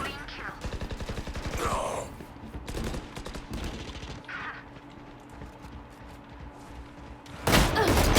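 Valorant gunfire, with several sharp single shots and short bursts in the opening seconds, then sparser shots and a loud blast near the end, over game ambience and some voice sounds.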